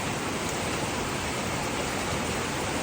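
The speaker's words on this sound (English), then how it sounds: "Look at that water pouring off there." Rainwater pouring off a roof in a heavy downpour, a dense steady hiss of falling water that is continuous and fairly loud with no pauses or voices.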